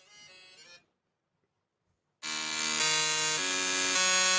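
A song plays back from YouTube: a short synth snippet, a gap of silence, then the track's bright, buzzy synth layers return loud and sustained, with no voices over it.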